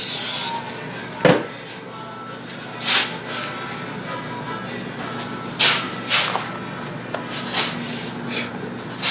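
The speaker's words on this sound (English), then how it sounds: "So the rest now the floured ones I usually just spray." Several short hissing bursts from a spray bottle misting floured pizza dough balls in a kitchen, spaced a second or two apart at close range with faint handling noise between.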